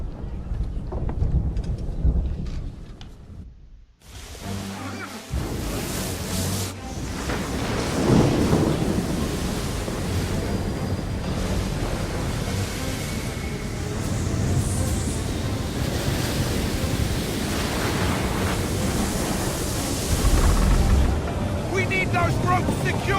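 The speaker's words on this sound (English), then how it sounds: "You wish us to sail into the storm?" A storm rages at sea in Assassin's Creed III, with heavy rain, crashing waves and booming thunder; after a brief silence the roar returns, and voices speak over it.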